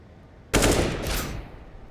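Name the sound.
Desert Eagle pistol gunshots in Counter-Strike video game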